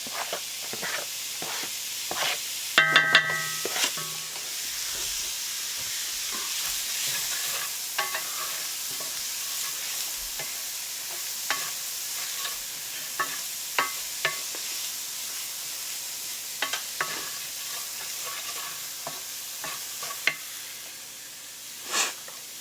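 Diced red onion sizzles steadily in a hot pan for butter chicken, with scattered clicks and scrapes of stirring over a constant frying hiss and a brief clatter near the start.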